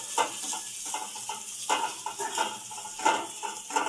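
Ginger and garlic paste fries with spices in a pan: repeated clinks and scrapes of a utensil stirring, several per second, over a faint sizzle, with no speech.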